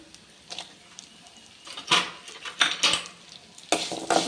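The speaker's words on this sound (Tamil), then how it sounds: "இப்போ நம்ம சின்ன வெங்காயத்தை போட்டுக்கலாம். பூண்டு 10 பல்லு," Sliced shallots and garlic cloves fry in a pan for a Tamil steamed dumpling dish, a steady sizzle broken by several loud scraping stirs and clinks of a spoon against metal.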